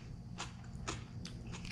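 Crunchy, sweet food being bitten and chewed close up, with a few sharp crisp crunches spaced apart over a low steady background hum.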